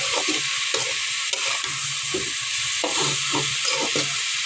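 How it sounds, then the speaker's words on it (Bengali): Kalai greens frying in a pan are stirred in slow, repeated strokes, each scrape rising over a steady bright sizzle that runs close and continuous throughout. "আস্তে আস্তে নাড়িয়ে দিতেছি।"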